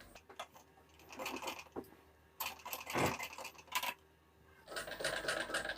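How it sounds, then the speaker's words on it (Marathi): A sewing machine set to a 4.5 stitch length runs along a blouse strip in several short bursts of rapid stitching, separated by brief pauses, heard up close. "तर आता आपण इथून शिलाई देऊन घेऊयात."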